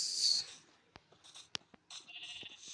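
Sheep bleat in short, thin calls at a moderate distance, several brief cries scattered across a quiet background with faint clicks and rustles between them.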